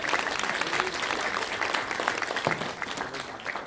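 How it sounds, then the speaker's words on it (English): Steady, full applause from the audience at a book panel on monopsony capitalism, a dense wash of clapping that holds for several seconds and thins slightly near the end. "Getting so much applause."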